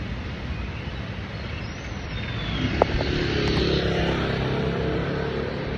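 A car passing along a street in Thailand during a morning walk, its engine noise swelling gradually from a moderate background hum into a nearer, louder rumble.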